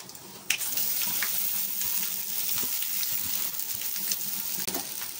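Grated raw mango is being stirred into fried peanuts in a pan, giving a soft, steady sizzle with scattered scraping clicks of a spoon against the pan.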